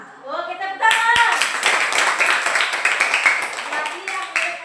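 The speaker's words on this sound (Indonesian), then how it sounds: "Oke, tepuk tangan." Classroom clapping breaks out after a brief voice, a group of pupils striking their hands together in quick, uneven bursts that carry on close and loud, with children's voices mixing in.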